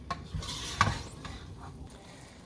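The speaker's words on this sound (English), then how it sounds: "take your spatula and mix it all in there really good until it all looks pretty even" A spatula scrapes and stirs seasoning into ground beef in a pan for chili, giving a few close, soft scraping strokes with a brief clatter against the pan and a faint sizzle underneath.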